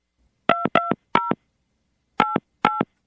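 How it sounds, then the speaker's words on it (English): A phone number being dialed to place a call on a radio show: five crisp touch-tone beeps in two quick groups, three then two, each loud and clean against silence. "we're going to call her right now and see if we can get her on the phone"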